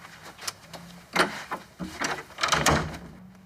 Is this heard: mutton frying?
no